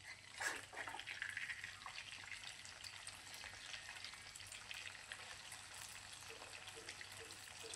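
Chicken pieces fry in hot oil with a continuous, faint bubbling sizzle at low volume and no voices.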